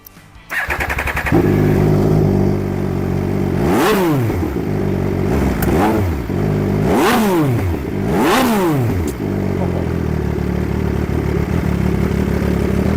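A 2014 MV Agusta Rivale 800 motorcycle with a QD exhaust idles loudly close by, then is revved sharply four times in a row, each rev climbing and falling before settling back to a throbbing idle.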